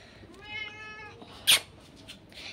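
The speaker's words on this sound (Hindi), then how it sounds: "इसको पता नहीं क्या म्याऊं म्याऊं कर जा रहा है।" A cat gives a drawn-out meow, fairly faint against quiet background noise, followed by a short sharp noise and then softer ambient sound.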